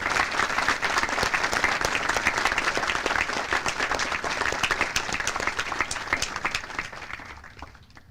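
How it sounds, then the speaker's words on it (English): An audience at a military basic camp graduation ceremony gives awardees a sustained round of applause, dense rapid clapping that holds steady for several seconds before thinning and fading out. "please join me in giving our awardees a round of applause"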